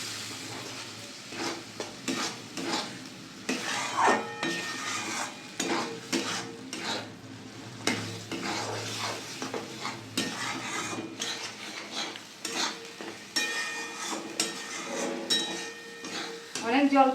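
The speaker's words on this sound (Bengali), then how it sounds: "ভালো করে নাড়িয়ে নেব।" A spatula scrapes and stirs ridge gourd paste frying in a pan with turmeric and Kashmiri chilli powder, giving repeated scraping strokes and light metallic clinks over a soft sizzle, while a person talks.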